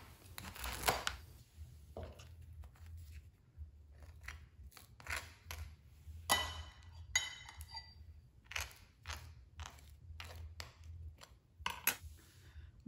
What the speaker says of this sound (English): now I'm going to cut off a little bit of the heel and butter it up